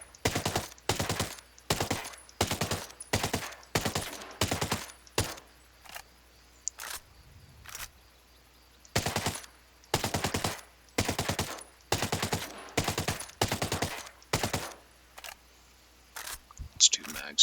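An assault rifle fires on full auto in Ghost Recon Breakpoint, letting off a long series of loud, close, evenly spaced bursts with brief pauses between them.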